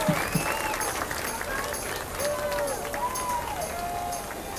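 An audience applauding at an outdoor Irish Days festival in Murphys, broad clapping and crowd noise with whistle-like tones mixed in, lasting throughout.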